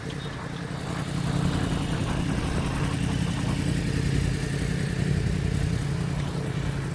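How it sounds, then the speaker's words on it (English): A motorbike passes close by on a town road in Melton Mowbray, its mid-pitched engine droning loud and steady throughout, with no talking. "Motorbike man."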